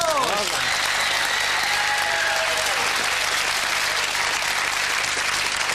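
A television game show studio audience bursts into loud, sustained applause, dense clapping filling the room with some brief cheering at the start.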